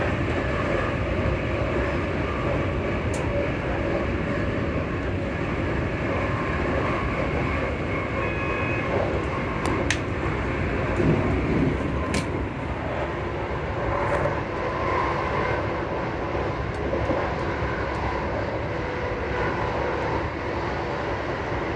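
A Class 334 electric train with VVVF thyristor drive and motor fans gives off a steady loud onboard roar and whine, with constant traction and fan noise and a few faint clicks and rattles throughout.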